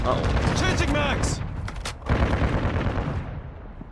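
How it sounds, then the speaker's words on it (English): A stun grenade is used in Modern Warfare 2 gunplay, with bursts of close gunfire and sharp metallic clanks followed by a dull thud and a lingering rumble, while a voice speaks over the action. "Throwing a stun grenade."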